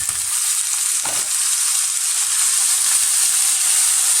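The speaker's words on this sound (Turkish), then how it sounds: "Evet arkadaşlar pirinci 4-5 dakika kavurdum." Rice stirred and toasted in butter with vermicelli in a pot makes a steady, close frying sizzle with a few faint scrapes of stirring, and no talk.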